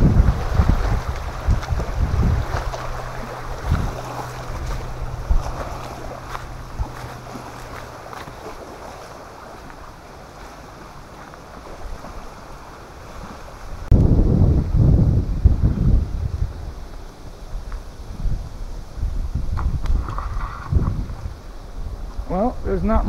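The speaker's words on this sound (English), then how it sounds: "Just love the sound of the water and the waves." Lake water laps and washes steadily on the shore with wind rumbling across the microphone; a few louder surges of lapping swell near the end.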